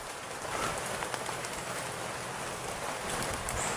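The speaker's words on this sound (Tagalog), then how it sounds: "Napakalakas ng ulan" Heavy rain pours down in a dense, steady broadband hiss, drumming close on a surface without a break.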